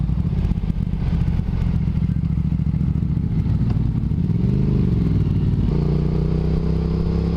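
A 2022 Triumph Speed Twin fitted with a Tec exhaust rumbles close by, a steady deep burbling idle with clattering texture that shifts into a smoother, steadier drone toward the end.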